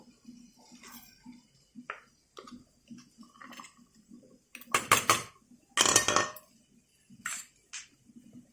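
A spoon clinks and scrapes against a bowl while raw onion is mixed into a yogurt chutney with mango pickle, giving short, close taps and a couple of louder, wetter stirring bursts.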